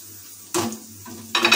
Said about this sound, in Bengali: পকোড়াগুলো ভাজা হয়ে গেছে